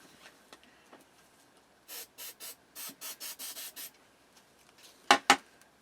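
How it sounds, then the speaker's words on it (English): An aerosol can sprays the back of a die-cut stencil in a run of about nine short, soft hissing bursts, followed by two sharper, louder puffs, with a quiet room in between. "Now the back is sprayed."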